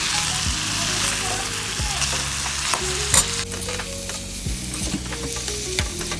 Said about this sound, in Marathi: ह्याला व्यवस्थित पद्धतीने मस्तपैकी फ्राय करून ग्रेव्हीला छानपैकी शिजू दे